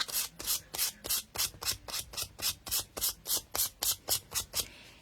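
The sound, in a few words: sanding a painted wooden apron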